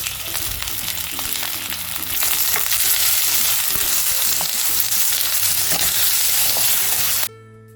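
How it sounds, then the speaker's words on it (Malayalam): Tomatoes and onions sauté in a pan for a tomato kurma, a loud, steady sizzle that swells after the first two seconds, with occasional stirring scrapes, then cuts off abruptly near the end. No one speaks. "ഇവിടെ തക്കാളിയൊക്കെ 1 മിനിറ്റോളം ഒന്ന് നന്നായിട്ടൊന്ന് വഴറ്റിയെടുത്ത് വന്നിട്ടുണ്ടായിരുന്നു"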